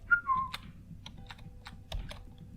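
Quick, close keyboard clicks tap out an irregular rhythm as keys are pressed while playing the game Neon Space, with a brief whistle-like game tone at the start.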